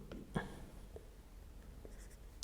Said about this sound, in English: So I'll just write that here.